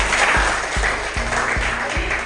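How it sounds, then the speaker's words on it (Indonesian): A high school class claps in a loose rhythm of about six beats, fairly loud and close, with a steady murmur underneath. "tepuk tangan untuk kita semua"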